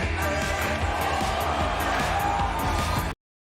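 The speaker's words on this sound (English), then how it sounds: "PAX East 2019's crowd reaction to the planet showcases how I feel about it" A large convention crowd at PAX East 2019 reacts to a planet reveal in a Borderlands game showcase, a steady roar of cheering and murmuring voices that cuts off abruptly near the end.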